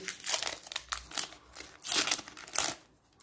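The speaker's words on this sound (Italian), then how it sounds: "apriamo questo pacchetto, vediamo cosa esce fuori" Foil Panini Calciatori 2014-2015 football sticker packet being torn and crinkled open by hand, several bursts of close, crisp crackling over about three seconds with no talk.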